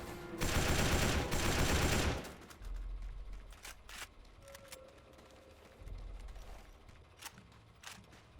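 BAR rifle fire in a video game, a dense two-second burst of rapid automatic shots that is loud and close, followed by quieter mechanical reload clicks and faint thuds.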